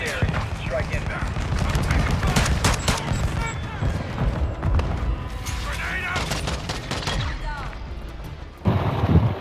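A stealth bomber air strike in a video game lands as a sustained barrage of rumbling explosions and gunfire, loud and continuous, with voices talking over the blasts.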